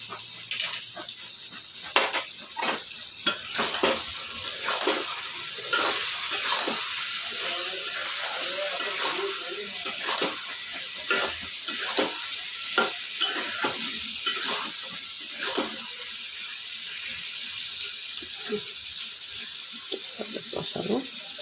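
Masala with Kashmiri chili stir-fries in a pan, a steady hiss of sizzling oil punctuated by repeated scraping and clattering strokes of the spatula, close and continuous.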